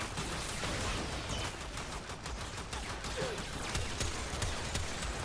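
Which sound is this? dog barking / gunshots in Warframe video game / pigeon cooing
gunshots in Warframe video game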